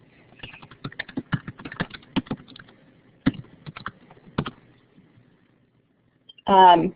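Keys clacking on a computer keyboard in irregular bursts of quick taps with short pauses, fairly close, ending in a short loud tonal sound.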